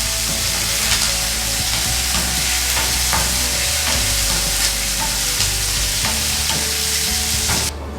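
Curry leaves with peanuts and cashews frying in oil over slow heat for lemon rice, a steady close sizzle with occasional stirring clinks, no talk.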